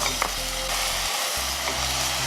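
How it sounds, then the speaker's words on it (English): Ground meat and vegetables fry in olive oil for lahmacun, a loud continuous sizzle close up with faint stirring, no voices. "fry it until the meat is fully cooked"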